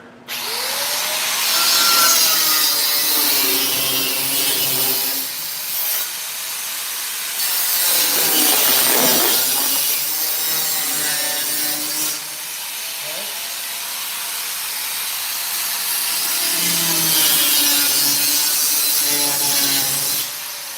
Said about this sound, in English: I'm gonna make my first relief cut here.